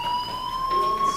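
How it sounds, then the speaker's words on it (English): Steady electronic fire alarm from the video game Life Is Strange, a loud sustained high-pitched tone with overtones that holds without pause throughout. "do you hear that fire alarm?"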